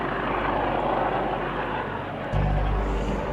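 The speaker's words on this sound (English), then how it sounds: "the police helicopter X-Ray Alpha 99 has been called in to help with the search." A police helicopter searching overhead for someone hiding in a nearby field, a loud continuous rotor and engine drone that stays close and steady and grows slightly heavier near the end.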